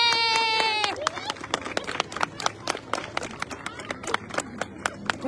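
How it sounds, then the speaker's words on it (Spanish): A voice is followed by scattered, uneven clapping from a small group at a park inauguration in San Bernardo, with sharp individual claps spread over several seconds. "Vamos a recibir con un fuerte aplauso"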